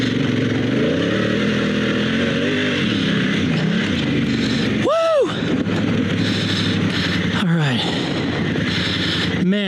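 A dual sport motorcycle on Pirelli Scorpion Rally tires climbs a loose, rocky road, its engine loud and close with rising and falling revs, rough bursts and rattling over the rocks, with shouts mixed in.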